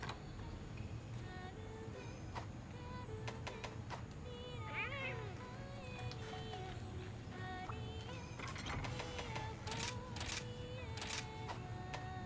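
A cat meows a few times in the video game Monster Hunter Rise, short wavering calls amid busy ambient clicks, taps and background game sounds, with some talk.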